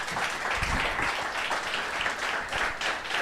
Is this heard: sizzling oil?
no